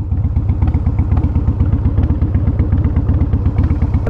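Harley-Davidson CVO Wide Glide Switchblade engine loping loud and close in a steady, rapid, lumpy pulse, an uneven rhythmic chug that stays constant throughout with no voices over it.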